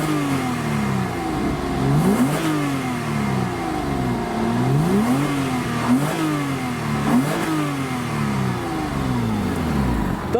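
A Porsche Boxster S engine is heard from outside, revving repeatedly in a rhythmic series of rising and falling bursts, loud and nearby.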